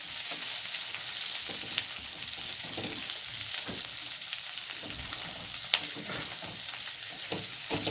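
Sliced chilies and five square-cut onions frying in a kadhai for soy chilli, a continuous close sizzle with scattered scrapes and stirring knocks throughout, no talk.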